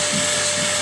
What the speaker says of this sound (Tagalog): So, papress na lang po ng vacuum.